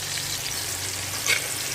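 Potatoes sizzle and fry with turmeric in a kadai, browning to a reddish colour; a steady, dense crackle with a brief louder burst of spattering near the end.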